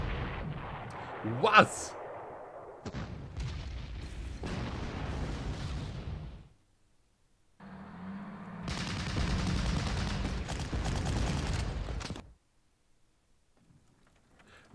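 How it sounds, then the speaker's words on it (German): Artillery fire in the World War II strategy game Panzer Corps, sustained loud rumbling barrages with a sharp blast near the start, two long roaring bursts separated by a brief silence, with a short spoken word early on. "Aha, da hat er noch eine Artillerie."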